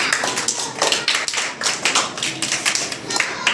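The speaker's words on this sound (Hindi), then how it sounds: "तालियां बजा दीजिए।" Children clap together at a school event, a steady run of sharp, close hand claps that carries through the whole stretch without any talking.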